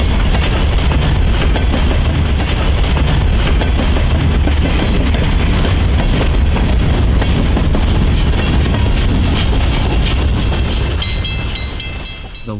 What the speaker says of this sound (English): The locomotive leading today's train is a Department of Transportation GP40-2